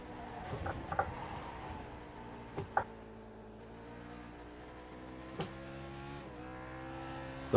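Lotus 49 race car in iRacing at Watkins Glen, engine held at full power in second gear, a steady loud harmonic drone with brief gearshift blips and small pops, no talk.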